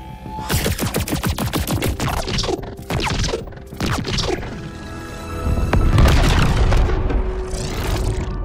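Sci-fi sound effects from the Penguin Grenade library play in a dense, loud sequence of booming impacts, crackling bursts and sweeping tones, ending in a heavy rumbling swell with no talk.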